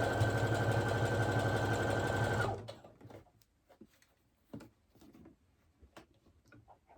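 A sewing machine runs fast and steady, stitching a trouser leg seam at a centimetre seam allowance, then stops abruptly; afterward only faint scattered clicks and fabric handling follow in near silence.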